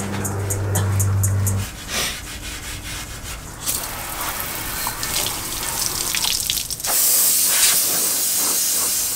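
Aerosol rust blast treatment sprayed onto the rusty chassis of a 60 Series Landcruiser, a steady close hissing spray that runs almost continuously, briefly pausing before a brighter, harsher burst near the end.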